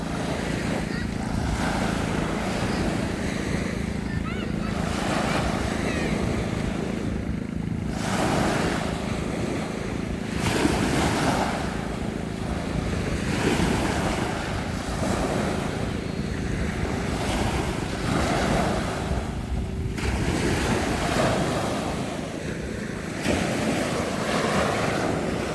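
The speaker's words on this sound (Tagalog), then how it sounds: "sana naririnig nyo yung alon ng dagat" Sea waves wash onto a provincial shore in Aklan, rolling in repeated surges every few seconds amid steady wind noise, close and loud, with no clear talk.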